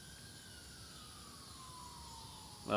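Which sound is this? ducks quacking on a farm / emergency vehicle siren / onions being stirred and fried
emergency vehicle siren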